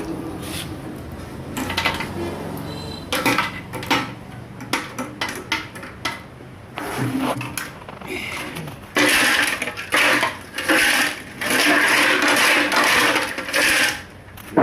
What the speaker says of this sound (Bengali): এখন আস্তে আস্তে ঝাঁকি দেবো আর তেল দেবো